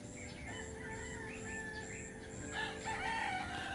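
Several roosters crow repeatedly in a rural Philippine village at dawn, overlapping long calls at moderate distance over steady background noise, with a few smaller birds chirping.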